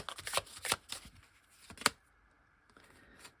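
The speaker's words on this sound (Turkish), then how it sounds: "Karşı tarafa bir kart daha alayım." A tarot card pulled from a deck gives a few close, crisp papery flicks and slides in the first two seconds, then near-silence, with no one talking.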